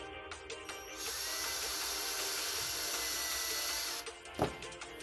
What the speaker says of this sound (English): drill a few holes in some wood